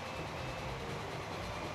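A train pulling five carriages runs at top speed, about 60 miles an hour, in the Transport Fever game, giving a steady, even rumble of wheels on track with no voices.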